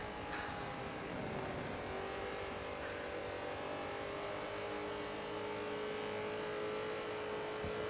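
A safety car drives at steady speed around Sebring in a V8 racing video game at night, its engine a continuous mid-pitched drone with steady tonal whine and no passes, heard alone.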